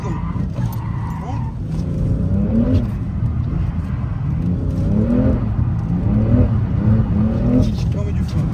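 A BMW M3 G80 or M4 F80 revs hard while drifting, several rising engine sweeps roaring up close, with someone talking over the noise.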